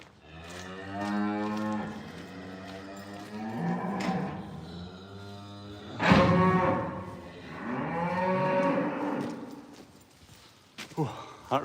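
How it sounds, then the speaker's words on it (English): Cattle moo loudly and close by in several long, drawn-out calls that rise and fall across the clip. Faint hoof clatter and footsteps come through between the calls. "All the mooing has scared your cat."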